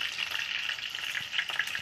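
Okra (bhindi) fries in hot oil in a village kitchen, giving a dense, continuous crackling sizzle heard close up and alone, with a few small pops and faint stirring.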